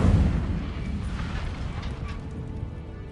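An Incendio fire spell goes off in Hogwarts Legacy, a loud rumbling fiery burst that rolls and fades over a few seconds.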